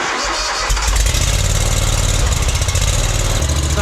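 A mower engine, recently fitted with a new air filter after 60 hours of use, cranks and catches after a short pause, then settles into a steady, close, loud idle.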